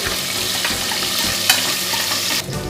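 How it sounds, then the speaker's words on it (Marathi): Raw onion frying in a pan for a soya chunk biryani, a steady loud sizzle with stirring scrapes and a sharp clink near the middle, no voices. "उरलेला कांदा आपला टाकून घेऊया कच्चा। तोही आपण थोडा लालसर करून घेऊया."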